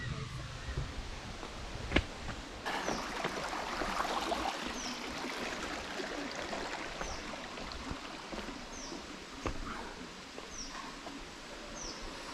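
Water at Kakkayam waterfall rushes over rocks in a steady, faint broadband wash, with a few birds chirping briefly over it.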